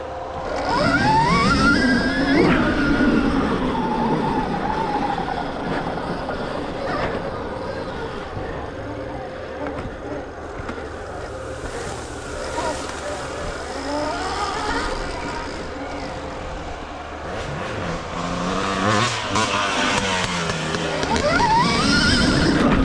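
A Stark Varg electric dirt bike rides a turn track in map 5 at 60 horsepower, its motor whining and rising in pitch as it accelerates, then falling back, with wind rush and a voice shouting over it.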